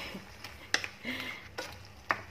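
Shrimp-head sauce cooking in a pan with mung beans, giving soft intermittent stirring scrapes and clinks over a light, steady sizzle, close and fairly quiet.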